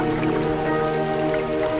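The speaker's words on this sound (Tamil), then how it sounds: "இந்த அற்புத மழைக்கு நன்றி" Steady rain patters and drips without a break, close and fairly loud, with tonal hums layered beneath it and no voices.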